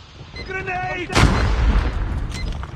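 A single grenade goes off in the Call of Duty video game, a loud booming burst that lands abruptly amid shouting and then trails into a long rumbling, crackling decay.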